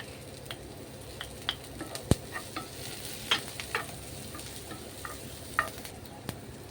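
Garlic fries in a pan with a soft steady sizzle while a utensil stirs and taps against the metal in scattered clicks, one sharp knock standing out.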